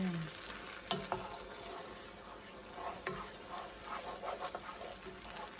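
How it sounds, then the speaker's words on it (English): A spoon stirs orange fennel mascarpone risotto in a pan, with soft scraping strokes and gentle bubbling sizzle, quiet and close, recurring in irregular bursts. "Stir it"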